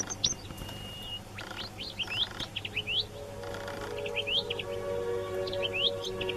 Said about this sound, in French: Des pains d'oiseaux pour les petites mésanges à tête noire.